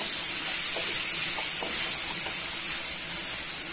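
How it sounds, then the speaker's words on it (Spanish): Chopped onion and carrot sauté in hot oil left from searing beef, giving a constant bright hiss with a few soft stirring knocks, close and fairly loud, with no talking. "vamos a empezar a sofreír"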